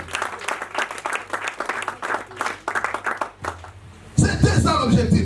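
A church congregation claps in a fast, dense burst of applause, acclaiming the Lord during a sermon, swelling louder toward the end.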